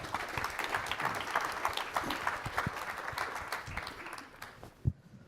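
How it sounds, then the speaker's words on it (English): An audience applauds as panelists are welcomed onto the stage at a conference fireside chat, steady clapping from a crowd that carries on for several seconds before tapering off, ending with a single louder thump. "Please give them a big round of applause and welcome them."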